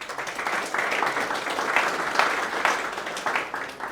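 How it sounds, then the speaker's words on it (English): An audience at a hackathon event applauds its winners, a dense, steady burst of clapping from a crowd lasting about four seconds. "Let's put our hands together for the winners first."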